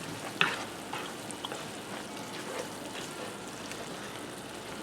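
Ground beef sloppy joe mixture being stirred in a pan, a steady soft sizzle and bubbling with faint scraping, quiet and continuous.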